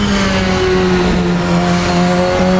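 An SR10 XXR race car in Assetto Corsa holds a loud, steady, buzzing engine note with strong tonal harmonics, close and continuous, pitch dipping slightly near the end.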